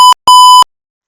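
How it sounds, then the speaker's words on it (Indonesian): An Arduino buzzer sounds a high blood sugar warning as two sharp, loud electronic beeps, a short one followed by a longer one, then silence. "buzzer akan berbunyi lebih sering"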